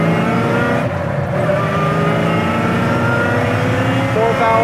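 Supercharged 1969 Chevy Nova accelerating hard, heard loud and close from inside: a constant roaring engine drone with a quick dip at a gear shift, then rising pitch again.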